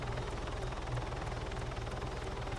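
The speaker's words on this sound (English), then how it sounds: "How are you making your heli pitch shift?" A helicopter in the video game Modern Warfare 3 gives a steady, close rotor thump with a pulsing low drone, continuous and fairly loud for a couple of seconds.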